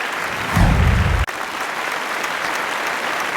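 An audience at a Tamil pattimandram debate applauds to welcome speaker Sangeetha, a dense, steady wash of clapping that carries on throughout, with a brief low thump near the start and a sharp break partway through.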